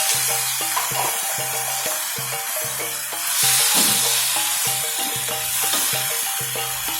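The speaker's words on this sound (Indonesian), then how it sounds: "Kita masukkan buncis yang sudah kita iris." Sliced green beans frying in a pan for tuna in tauco sauce, giving a steady sizzle and hiss with repeated scraping and stirring clatter, close and fairly loud, with no talking.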